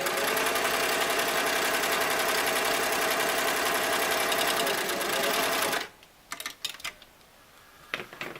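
A Singer Model 337 sewing machine runs steadily, stitching lightweight fabric at about 15 stitches per inch with a straight center-needle stitch, a loud continuous whirring hum that stops abruptly, followed by a few sharp clicks and handling noises.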